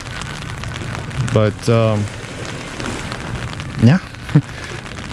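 Steady rain hiss from a tropical storm at Palm Beach, Aruba, running as a constant wash throughout, with a person talking briefly over it in two short bursts.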